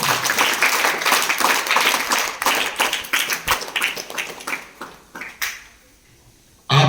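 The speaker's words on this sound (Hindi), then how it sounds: "तालियों के साथ" Energetic classroom applause opening a school session, students clapping loudly in uneven bursts with sharp individual claps, thinning out toward the end before a brief quiet and a sudden sound at the close.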